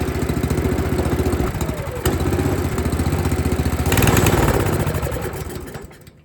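A Briggs and Stratton engine on a model 1024 snowblower runs steadily and loudly up close with a rough, pulsing idle, rising briefly near the end before dying down as it cuts out.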